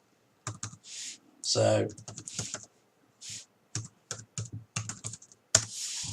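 Laptop touchpad clicking and tapping, a run of sharp close clicks in irregular bursts with pauses between, plus a brief stretch of speech.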